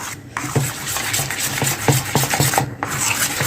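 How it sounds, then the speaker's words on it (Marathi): A spoon stirring a mung dal mixture with salt in a pan, loud continuous rubbing and scraping with rhythmic strokes, close up, no talking. "चला चांगलं करून मिक्स करून घेऊया"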